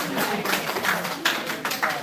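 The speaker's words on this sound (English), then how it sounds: "Give your partner a hand of applause, guys." Applause from partners in a bachata foundation dance class, a scattered patter of hand claps spread through the room, fairly close and moderate in volume, with some sharper individual claps standing out.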